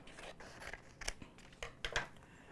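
Scissors snipping through a printed piece from a Crio 8432WDT white toner printer, a quick series of sharp, close cuts in uneven rhythm over a quiet room.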